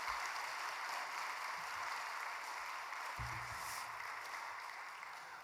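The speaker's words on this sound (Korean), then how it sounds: "우리 귀한 강의를 해주신 강사님께 우리 박수로" A church congregation at a Wednesday prayer meeting claps for a guest lecturer, a dense, even wash of applause that holds steady and fades slightly toward the end.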